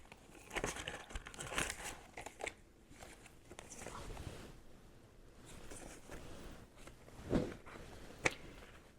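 Paper cash envelopes being handled and shuffled, with soft crinkling, rustling and papery slides in irregular bursts, fairly quiet and close.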